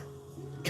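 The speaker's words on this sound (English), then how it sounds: "I cough up something." A single short, quiet cough from an adult with sinus trouble, close to the microphone, ending a faint indoor hum.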